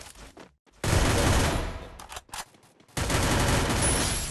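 MP5 submachine gun fire in a shooting video game, two long loud rapid-fire bursts separated by short pauses and a few scattered shots, close and dominant with no talking.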